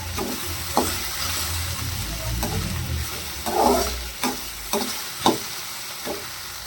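Okra stir-fry sizzles steadily in a pan while a spoon stirs it, with scraping strokes recurring every second or so over the constant close frying hiss.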